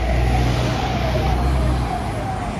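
A Royal Enfield Interceptor 650 motorcycle pulls away, its steady engine drone holding loud and close before easing slightly as it departs, with a constant low rumble underneath.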